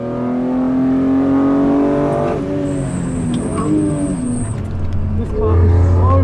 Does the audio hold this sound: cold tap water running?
no